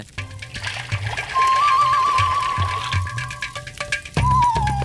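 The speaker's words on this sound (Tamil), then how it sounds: "இப்ப முதல்ல நெய் ஊத்துங்க." Ghee poured into a cooking vessel in a kitchen, a steady thin trickle running for a few seconds with light clinks and handling noise around it.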